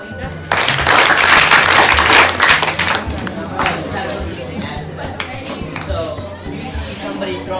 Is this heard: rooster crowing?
no